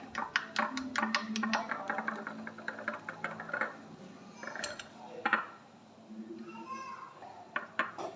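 Chicken sandwich filling being mixed in a bowl, a spoon clinking and scraping against the sides in quick repeated strokes at close range, with softer stretches in between.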